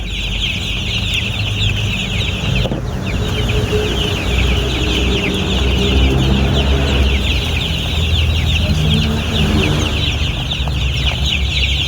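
A flock of 45-day-old chicks peeping continuously, a dense, loud chorus of high calls with some deeper clucking and farmyard noise mixed in.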